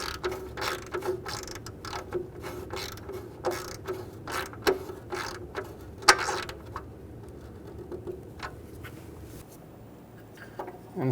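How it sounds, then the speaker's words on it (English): A ratchet wrench snugs exhaust manifold bolts on a 2011-2014 Hyundai Sonata, giving quick runs of close, crisp clicking in bursts with short pauses between them. "Go around and snug the bolts down."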